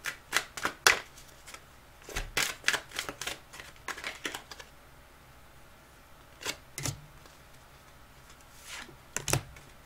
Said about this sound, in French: Je prends une carte ou deux de précision